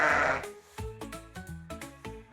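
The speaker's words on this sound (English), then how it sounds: "Yes, this is a sheep." A sheep bleats loudly and close by in a repeated, wavering cry that is heard alone without any talk.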